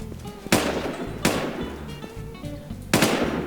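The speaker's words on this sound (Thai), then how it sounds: "เขาคนอื่นเขายิงกันแล้ว" Gunfire from other players in Infestation Thailand, three sharp separate shots spaced unevenly, each with a quick decaying tail over low background noise.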